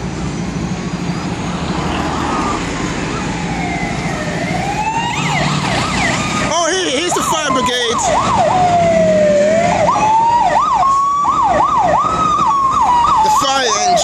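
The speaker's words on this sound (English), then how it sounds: "The fire engine." A fire engine siren wails loudly and close at Brent Cross, its pitch sweeping up and down over heavy traffic rumble, then settling into faster rising and falling cycles.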